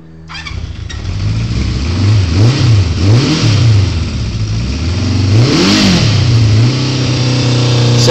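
A 1972 Honda CB350F four-cylinder motorcycle, pre-restoration, runs loud and close just after a cold start, revving up and down several times before settling into a steady idle.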